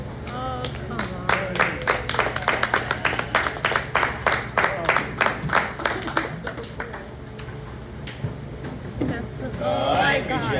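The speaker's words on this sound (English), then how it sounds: "Give that alligator some applause" Audience at an alligator show in the Everglades claps in a brisk run of close, sharp claps lasting several seconds, with voices cheering over it, then tapering off into talk and crowd noise.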